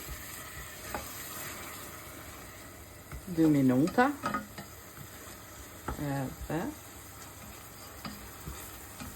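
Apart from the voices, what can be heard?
wine sizzling in a hot pan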